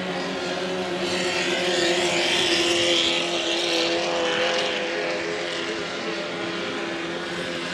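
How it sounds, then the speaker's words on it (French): Racing hydroplanes in the 2.5-litre class roar around the course at Valleyfield, a loud, continuous high-revving engine drone that swells and fades slightly, with no talking. "Il semble l'avoir devancé dans le virage côté est."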